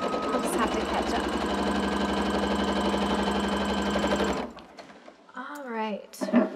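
A sewing machine runs steadily, stitching straight lines across a quilt in one continuous, loud mechanical whir, then stops abruptly as a voice starts talking.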